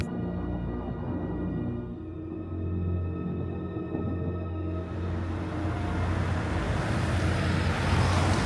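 Car driving through Seoul heard from inside, a steady low engine and road rumble with continuous tire noise that grows slightly rougher and louder toward the end, no talking.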